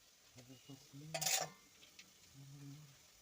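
A spoon scrapes and stirs dry semolina frying in a pan, with a brief louder rasp in the middle and a faint background hum.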